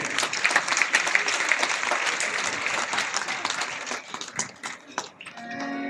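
Audience at a Hindu religious discourse (pravachanam) in a hall claps loudly and steadily, a dense wash of many hands that thins and tapers toward the end.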